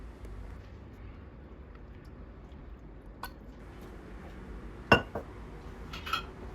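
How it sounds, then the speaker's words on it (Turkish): A glass jar of red tomato pickle in organic apple cider vinegar and water has its lid screwed shut, giving a few faint, brief glassy clicks and clinks near the end against a quiet room hum. "kapağını sıkıca hava almayacak şekilde kapatalım"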